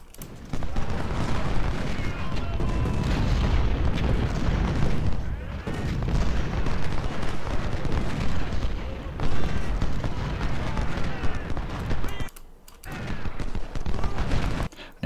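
Heavy, continuous cannon fire and massed musketry rumble through a Civil War siege battle in the video game Ultimate General: Civil War, loud and dense with a few short gaps, someone speaking over the din.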